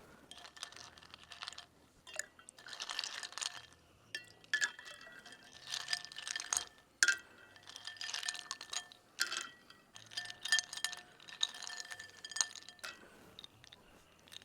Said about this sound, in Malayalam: നമുക്ക് കുറച്ച് ഐസ് ക്യൂബ് നമുക്ക് ഇട്ട് കൊടുക്കാം കേട്ടോ